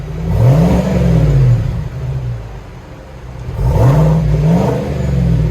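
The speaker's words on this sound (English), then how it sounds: "Vibrant, ultra quiet. Silverado Z71 Trail Boss." Chevrolet Silverado Z71 Trail Boss with a quieted straight-pipe exhaust revving twice, each rev a loud, deep engine surge that climbs and falls back, separated by a brief idle lull, with no talk.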